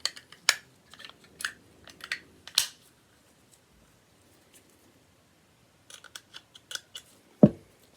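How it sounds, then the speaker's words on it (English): The steel locking tab of a Chinese Type 54 Tokarev pistol slides back into place on the frame during reassembly: a cluster of small, close metallic clicks and scrapes, a quiet pause, then more clicks ending in one firmer snap. "we're just going to slide this tab back to the other side, and that'll lock these things and lock it in place onto our frame"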